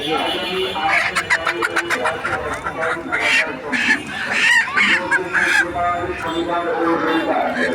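At a busy poultry market selling large geese, ducks and local chickens, loud honks and clucks burst out repeatedly close by while people talk and bargain throughout.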